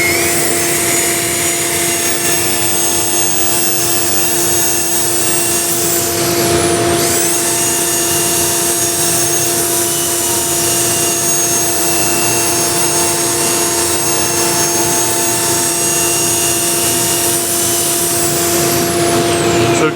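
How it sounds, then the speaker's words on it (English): A power sander runs at full speed on wood, producing a loud, steady high whine with a constant tonal hum for twenty seconds, briefly shifting around the middle, with no talking. "Now sometimes I sand at full speed"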